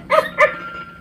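Peeing Pup toy dog from a tabletop game gives two quick electronic barks close up, a short burst then another a moment later, followed by a quiet tail.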